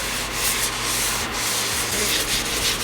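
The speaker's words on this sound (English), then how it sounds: "With rubbing alcohol, just to get the seat a little bit clean." A clean cloth dampened with rubbing alcohol is rubbed steadily across a white seat, making a continuous close, loud scrubbing swish with gentle rhythmic surges and no voices.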